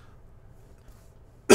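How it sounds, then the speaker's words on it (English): A person coughs and hiccups at the same moment, one short loud burst right at the end after near silence. "I coughed and hiccuped"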